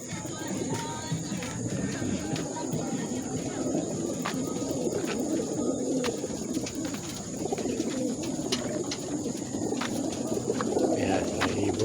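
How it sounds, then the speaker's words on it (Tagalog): Caged birds, likely pigeons or doves, cooing and calling in a steady mingled chorus close by, with soft rustling and a constant background hum throughout. "Ayan, mga ibon."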